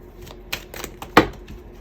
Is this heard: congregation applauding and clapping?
no